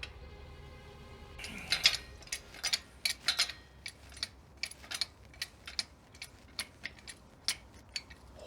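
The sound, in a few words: turning the handle of a tire changer's release valve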